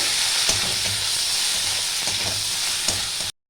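Spices mixed with chilli powder being sautéed in a pan for a potato curry, giving a steady, loud sizzle with faint stirring scrapes underneath, then cutting off abruptly.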